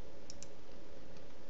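A few quick computer keyboard key clicks, sharp and close, while sampling in FL Studio, with a steady low hum underneath and no voices.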